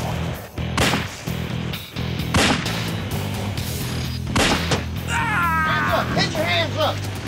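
Gunshots fired by FBI agents at an armed fugitive named Burnside, several sharp cracks scattered through a tense reenactment with continuous shouting voices and dramatic music underneath.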